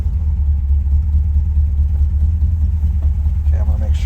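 A 1967 Lincoln's engine idles steadily with a loud, even low rumble close by, holding constant throughout before a faint clatter near the end.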